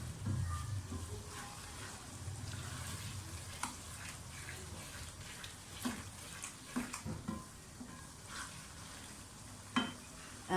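Mash dal frying in a pan while being stirred, a soft steady sizzle with scattered scraping and clinks of the spoon against the pan, fairly quiet.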